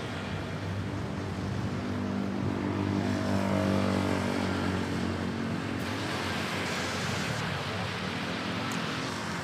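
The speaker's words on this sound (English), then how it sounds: "We also see at A330 pushing back on Terminal 2." An Airbus A330 airliner at Manila Airport near Terminal 2, a steady, loud engine drone with tonal hum that holds throughout and dulls slightly toward the end, no talking.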